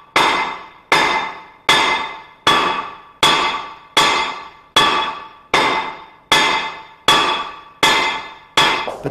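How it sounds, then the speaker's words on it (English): A hammer repeatedly strikes a length of mineral-insulated fireproof cable powering a light bulb, about a dozen loud ringing metallic blows at a steady rhythm, each decaying before the next. "a length of this cable powering a light bulb is hit with a hammer"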